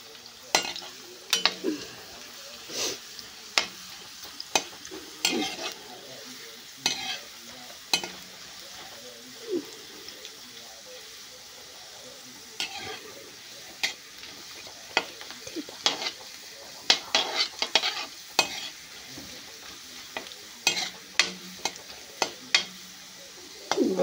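Onion, chilli, tomato and potato sizzling in a pan while being stirred, with repeated sharp spoon scrapes and taps against the metal at an irregular rhythm over a low frying hiss.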